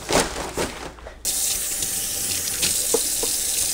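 A few light knocks and clatters come first, then a sink tap abruptly opens and water gushes in a loud, steady hiss and splash that carries on to the end, close to the listener.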